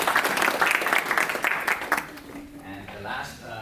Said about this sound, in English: Give it a round of applause for Cameron as well.